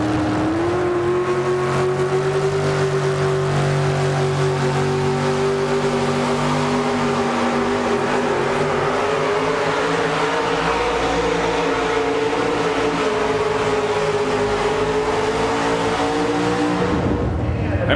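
Older Chevy 4WD pulling truck at a Goshen, Indiana truck pull, its engine holding a loud, sustained high-revving roar that climbs slowly and wavers for most of the run before cutting off near the end.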